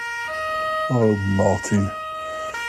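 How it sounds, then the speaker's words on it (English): Siren sound effect, a steady electronic wail held under a voice speaking briefly partway through. "I can hear the sirens."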